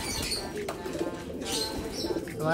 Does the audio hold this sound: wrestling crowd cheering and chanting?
no